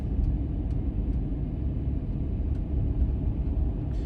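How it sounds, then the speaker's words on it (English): Inside a loud 2500 pickup truck on the road, a constant low engine and road rumble drones close and heavy, with a few faint rattles or clicks scattered over it. "This truck is pretty loud."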